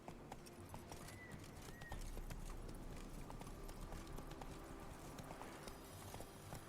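Roach, a horse in The Witcher 3, runs with a fast, even clip-clop of hooves that continues without pause, faint and steady beneath game ambience.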